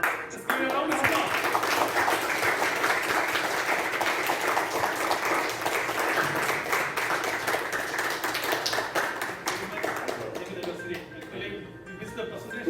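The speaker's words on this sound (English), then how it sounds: "Let's give a round of applause." An indoor audience applauding, with sustained, dense clapping for about ten seconds that tapers off, with voices talking underneath.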